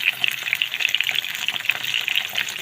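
Tomatoes fry in a pan with a steady, close-up sizzle of crackles and pops, continuous and fairly loud, with no voices.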